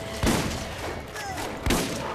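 Two sharp gunshots crack in Borderlands, spaced a little over a second apart, loud and close over a steady hiss of game ambience.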